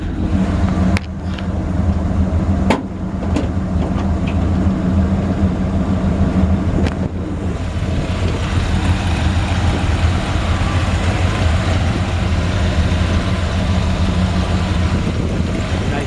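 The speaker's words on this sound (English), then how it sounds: "Smooth running engine, got a new Holley carb on it." A 1956 Ford F100 truck engine with a new Holley carburetor idles evenly and continuously, loud, with a deep low rumble and no talking over it.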